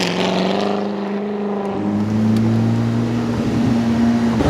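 A Corvette ZR1 and a Ferrari SF90 roll out on a Houston street, their engines giving a loud, steady droning rumble that shifts pitch as they move off nearby.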